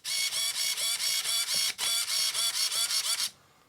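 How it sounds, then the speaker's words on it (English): A 2015 Team Associated TRF211XM RC car's servo arms whir in rapid repeated bursts, a steady pulsing mechanical buzz of about a dozen short cycles, close and loud, then stopping abruptly. "my servo arms still work perfect"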